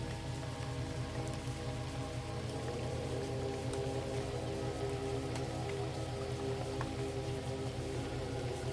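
Steady rain falls on a lake at night, a soft continuous patter with a few brighter drop splashes standing out, even and unbroken throughout, with no voices.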